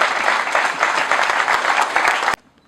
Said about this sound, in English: Another big round of applause, please, to Mr. Albert Church.